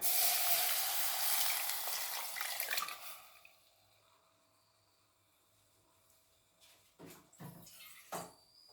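A tomato, tamarind, turmeric and salt mixture pours into a pan for horse gram rasam, a splashing liquid pour that fades after a few seconds, followed by quiet and a few short clatters near the end.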